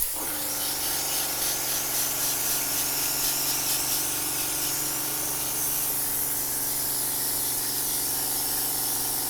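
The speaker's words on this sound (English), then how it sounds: "You don't want to get any spray on them from this cleaner." A hose sprayer hisses steadily as it drenches a ductless mini split's outdoor coil with foaming cleaner, a loud continuous spray that starts abruptly and holds for the whole stretch.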